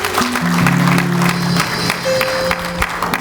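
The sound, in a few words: congregation applauding in church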